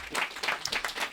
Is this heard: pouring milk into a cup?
no